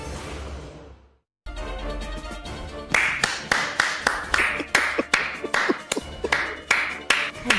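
Hand clapping, a rhythmic run of sharp, fairly close claps at a steady pace after a short quiet gap, with faint talk beforehand.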